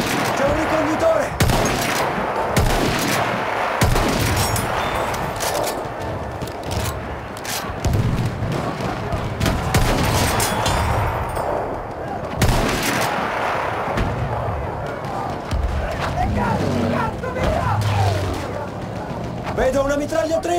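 Rapid gunfire and booming artillery from a war video game rattle on continuously and loudly, with shouted soldier voices mixed into the dense battle noise.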